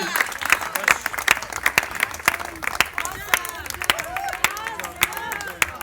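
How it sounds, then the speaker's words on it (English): Applause and scattered cheers from an audience closing a dance performance at a Baisakhi cultural program held at the Indian Ambassador's residence, with dense, sharp claps at steady volume and some background voices throughout. "A thumping round of applause for a thumping performance by VSB."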